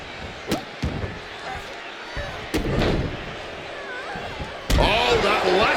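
Heavy impacts from a superplex in a wrestling video game come as several sharp, loud thuds spaced across the clip, with a commentator talking between them.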